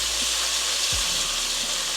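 Haitian epis seasoning sizzling steadily in a hot pan, a continuous close frying hiss with soft crackles and no talking.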